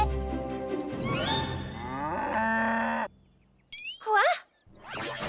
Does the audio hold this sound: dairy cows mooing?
yes